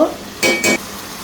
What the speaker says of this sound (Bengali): কাঁচামরিচ দিয়ে হালকা একটু নাড়াচাড়া করে দিলাম।